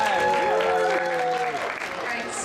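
Audience applause at a sci-fi convention cosplay contest, a steady wash of clapping filling the room for the MC, with voices talking over it throughout.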